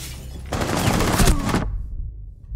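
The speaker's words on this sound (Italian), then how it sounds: "Quanti spari a caso!" A rapid burst of Rainbow Six Siege gunfire rattles for about a second, loud and dense, then cuts off abruptly into quiet.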